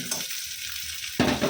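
Dal being tempered with onion, chili, panch phoron and whole cumin, a steady frying sizzle that swells into a louder burst of spluttering as more goes into the hot pan.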